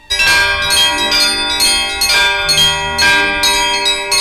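A monastery chapel bell tower rings out with loud, resonant church bell strikes, overlapping tones sustaining and decaying between repeated hits in a steady pealing rhythm, close and clear with no voices.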